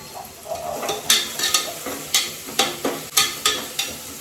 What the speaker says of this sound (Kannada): ಸ್ವಲ್ಪ ಈರುಳ್ಳಿ ಜಾಸ್ತಿ ಫ್ರೈ ಆಗಕ್ಕೆ ಬಿಡೋಣ.